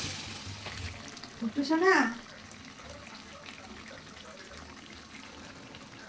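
Water poured slowly into a pot of meat and potato curry, a steady soft stream running throughout, with a voice briefly speaking over it.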